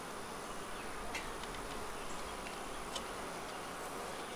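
Honeybees buzz at an open hive in a small green nuc box, a continuous soft outdoor hum of many insects with a few brief louder passes near the listener and no voices.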